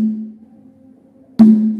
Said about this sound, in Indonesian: Sekali lagi, kendang ketipung bunyinya tak, tung, ya.